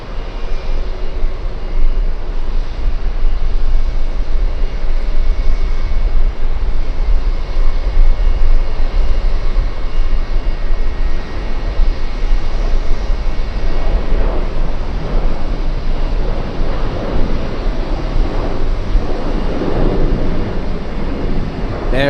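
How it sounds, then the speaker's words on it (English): An airliner in retro livery taxis at JFK airport with a low, continuous engine rumble under gusting wind noise. The rumble swells slightly toward the end, and no one speaks. "we have the retro livery coming down on LA Flights Way, taxiing on down LA Flights Way."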